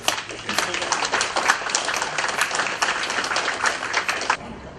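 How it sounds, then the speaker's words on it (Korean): An audience claps to welcome a speaker coming forward at a meeting, with fairly loud, dense applause that runs steadily and then stops near the end. "여러분 큰 박수를 주시면 고맙겠습니다"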